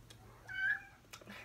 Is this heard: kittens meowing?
yes